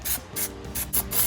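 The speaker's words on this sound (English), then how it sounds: "You never want to just kind of keep your finger on there or start running, but just kind of light coats." Short repeated hisses of Plasti Dip spray-painted onto car wheels of a Mercedes R-Class in gloss black, five or so quick bursts in close succession at close range, with no talking.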